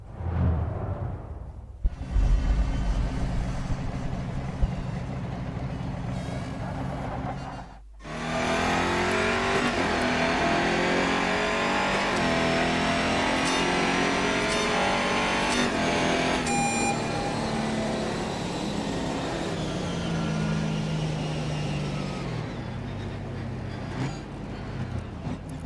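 A V8 Holden race car in the GRID Autosport racing game roars from the cockpit through repeated accelerations and gear changes, with brief lifts, tire squeal and occasional beeps, loud and continuous throughout.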